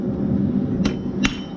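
A blacksmith hammers steel while forging a bottle opener, a dull ringing drone underneath with two sharp, bright metal hammer strikes close by, about a third of a second apart.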